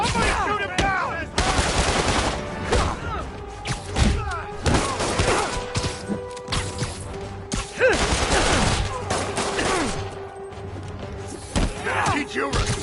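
Gunfire rattles in the Spider-Man video game, with repeated bursts of shots, thuds and crashes in a busy action scene. Game voices can be heard in the background.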